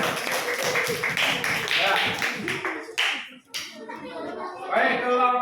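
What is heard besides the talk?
classroom applause for a group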